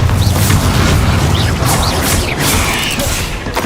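The Bombarda explosion spell from Hogwarts Legacy goes off amid game combat: loud booming blasts with crashing impacts layered over a continuous rumbling wash of battle noise.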